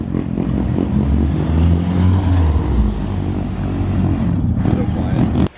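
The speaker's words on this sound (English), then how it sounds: "Steph just stole your car, Jimmy." A Nissan 240SX pulls away with a steady, fairly close low engine rumble that holds through most of the stretch and cuts off abruptly at the end, with some voices mixed in.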